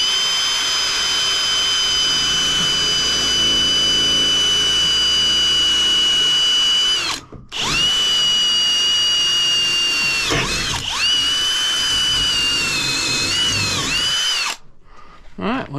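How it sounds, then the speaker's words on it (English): A small pilot drill bores a hole for a Lowrance Halo 20 radar mount on a North River Seahawk boat. The high motor whine runs close and loud in long bursts, with brief stops between them. "I'm gonna use the pilot small drill first."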